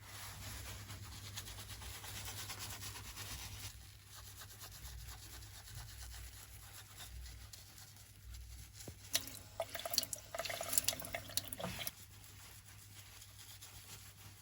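Running water splashes and trickles steadily while a porcelain mould is rubbed and rinsed, with scraping, a hum underneath, and brief louder splashes near the end.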